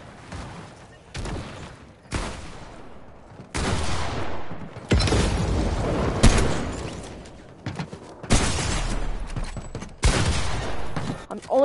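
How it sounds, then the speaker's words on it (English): Gunfire rings out in a first-person shooter game, with loud sharp bursts that cut in and out abruptly, some sustained volleys and heavy thuds in between, separated by near-silent gaps. "I'm only trying to snipe!"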